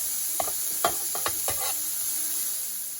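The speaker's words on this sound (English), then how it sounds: "You want these things to get some color to them, caramelize just a little bit on that Ninja griddle." Onions and steak fry in rendered fat on a Ninja Foodi Pro XL griddle, a steady close sizzle broken by several quick spatula scrapes and crackles early on that then settles into a smooth hiss.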